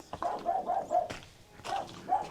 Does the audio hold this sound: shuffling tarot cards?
no